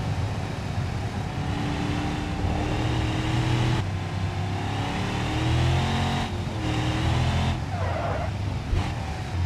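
A car engine drones steadily in BeamNG, a continuous loud hum with shifting tones as the car drives, sustained throughout without pauses.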